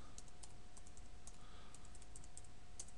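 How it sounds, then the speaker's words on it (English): Keys click and tap quietly on a computer keyboard while a router password is entered, a loose run of light keystrokes over a faint steady hum. "I'm going to put in the password, and then I'm going to type enable, put in the password again."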